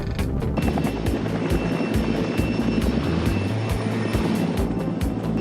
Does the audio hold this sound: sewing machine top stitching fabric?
no